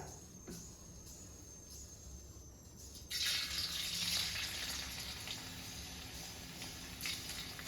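Salt-soaked, squeezed sliced onions drop into hot vegetable oil and break into a loud, steady sizzle that swells and holds, close by, over a constant background hiss, with no talking.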